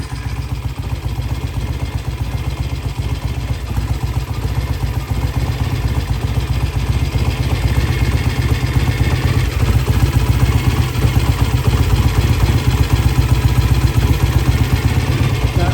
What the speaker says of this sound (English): Bike's idling nicely.